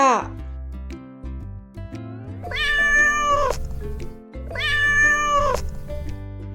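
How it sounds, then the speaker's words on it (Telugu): A cat gives two long, loud, drawn-out meows over a simple looping background melody in an animated animal-sounds lesson for children. "క్యాట్ క్యాట్ పిల్లలు దీని తెలుగులో ఏమంటారు పిల్లి పిల్లి"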